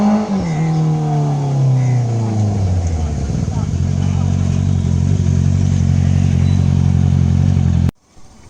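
A motorcycle with an Akrapovic full-system exhaust revs loud and close, its pitch dropping and settling into a steady throaty idle before cutting off abruptly.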